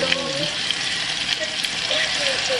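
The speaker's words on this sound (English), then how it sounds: "lutuin natin yung tomato sauce and tomato paste" Tomato sauce and tomato paste cook in a pan for a caldereta, giving a steady, bright sizzle with a few soft stirring scrapes, close and continuous without speech.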